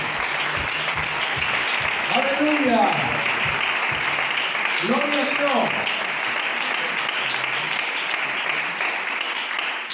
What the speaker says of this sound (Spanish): Le damos un fuerte aplauso a la palabra de Dios.